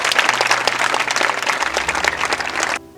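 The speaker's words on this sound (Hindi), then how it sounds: "तालियां एक बार जोर से।" Audience applause at a school reality-show event, a dense wash of many hands clapping steadily and fairly loud, cutting off abruptly near the end.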